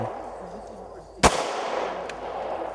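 A single sharp, loud firearm shot cracks out and rings off into the surroundings, with quieter background sound before and after.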